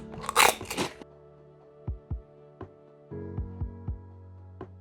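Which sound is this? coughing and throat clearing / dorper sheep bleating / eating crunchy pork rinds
eating crunchy pork rinds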